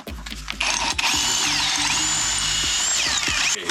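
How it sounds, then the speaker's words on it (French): A power drill bores through steel plates for a roll cage, a close, loud whine that rises and dips as it bites into the metal, starting abruptly and running almost the whole time. "Je suis en train de percer des platines."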